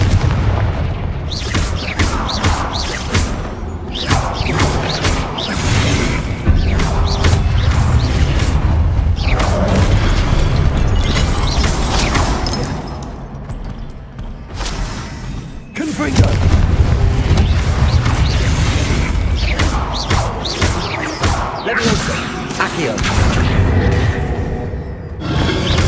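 Confringo fire-blast spells in Hogwarts Legacy go off as repeated booming explosions and crashes during a loud combat sequence, heavy and continuous with a brief lull midway, while a voice talks over the action.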